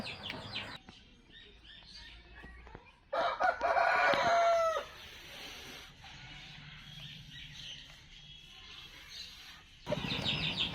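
An eight-month-old fighting rooster, offered for sale, crows once loudly and close by in a long drawn-out call. Softer clucks and chirps from the flock come before it, and another bird call follows near the end.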